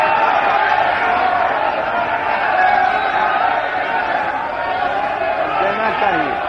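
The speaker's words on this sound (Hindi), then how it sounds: "हल्ला हंगामा जो है वो शोर कर रहे हैं" Opposition legislators in the Bihar state assembly raise a dense, continuous uproar of shouting and chanting voices filling the chamber, loud and unbroken throughout.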